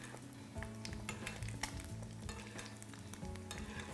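A Spanish fried egg spits in hot oil while it is basted, a steady close sizzle broken by quick spoon scrapes and crackles, with a faint low hum underneath and no voices.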